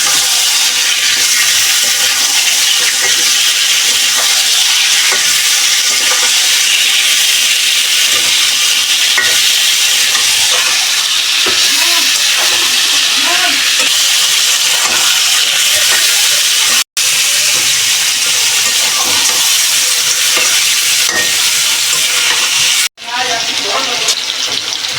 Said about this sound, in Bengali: চিকেনগুলি ভাজবো